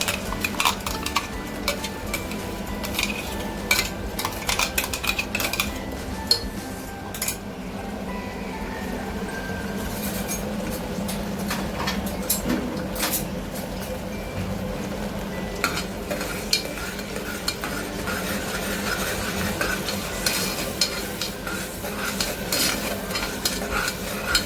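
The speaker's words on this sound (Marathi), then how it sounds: "भाजून नाही घ्यायचं बिर्याणीला, त्या तेलामध्ये चांगलं फ्राय होऊ द्यायचं" Raw biryani masala paste fries in hot oil in a pan, a continuous sizzle with frequent stirring scrapes and clinks of a utensil against the pot, close and fairly loud.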